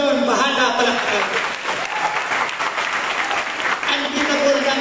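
A municipal crowd applauds the mayor, a full, continuous burst of clapping that swells and stays loud, with an announcer's voice heard over it.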